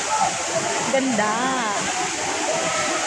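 Fresh spring water pours steadily into a resort pool in Lagayan, Abra, a continuous nearby rushing splash with people talking over it.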